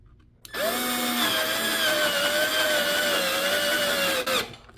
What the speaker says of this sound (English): center the drill bit as best you can where you marked the first hole, and drill straight through